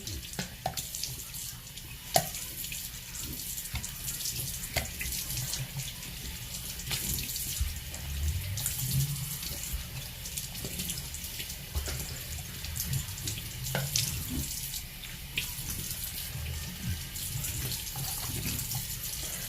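Tap water runs steadily into a sink during face washing, a close, continuous rushing splash with small shifts as hands move through the stream, with no talk.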